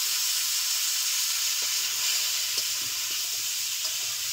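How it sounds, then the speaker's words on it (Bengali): Potatoes frying in leftover fish-frying oil, a steady broad sizzling hiss close up with a few faint soft taps of stirring, no voices. "আলুগুলো ভেজে নিচ্ছি।"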